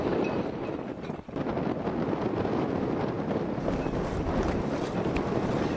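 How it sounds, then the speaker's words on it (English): Squally wind blusters steadily through boat moorings on the River Orwell, a constant rough rushing with gusty buffeting and a brief dip early on. "Squall after squall came tearing in through the moorings"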